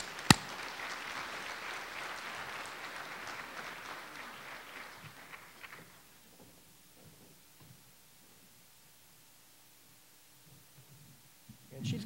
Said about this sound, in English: Let's give this lady a round of applause.